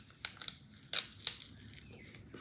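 A tape runner rolling adhesive onto a journal page, heard as a few brief, crisp ticking and peeling strokes at close range with quiet pauses between them and no talking.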